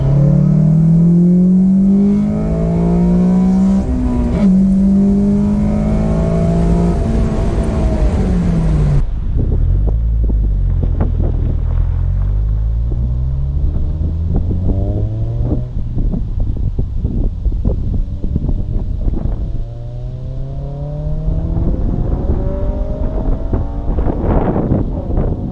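A Honda Civic Si FA5 with a Flashpro tune accelerates hard in second gear past VTEC engagement at 5800 rpm, its engine note climbing loud and close under heavy wind buffeting, with an abrupt change partway through. No one speaks.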